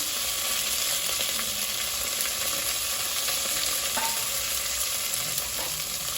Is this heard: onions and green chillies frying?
yes